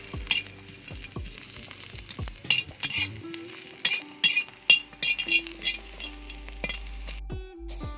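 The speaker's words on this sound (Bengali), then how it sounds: "ওই আগুনেই হয়ে যাচ্ছে পেঁয়াজ ভাজা" Onions sizzle softly in a pan while a utensil stirs and scrapes, with sharp metallic clinks scattered throughout.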